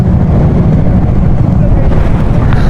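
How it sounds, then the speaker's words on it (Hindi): A strong cold wind blows on a high mountain road in Ladakh and roars loud and close as a constant rumbling buffet against the microphone. "बहुत ठंडी हवा चल रही है, बहुत ठंडी हवा।"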